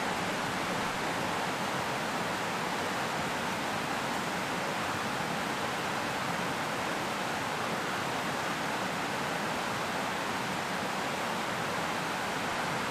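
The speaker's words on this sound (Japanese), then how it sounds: "夏の暑さを忘れさせてくれる滝の水が流れる音" A waterfall in Oshu on a summer day sends down a steady, full rush of falling water, loud and even for the whole stretch with no voices over it.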